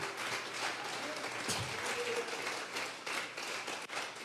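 Church congregation clapping hands during a Sunday worship service, a dense steady wash of applause filling the room for several seconds, with a voice speaking over it.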